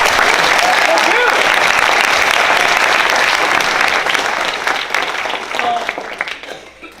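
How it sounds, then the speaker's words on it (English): Applause for Bill, the shop technician, at a university IEEE student party: dense, sustained clapping from a crowd, loud and steady for several seconds before tapering off at the end, with no talk over it. "So let's give applause for Bill."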